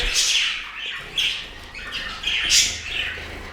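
Budgerigars and finches in an indoor bird room give repeated high chirps and squawks in several bursts, fairly close, with no talk.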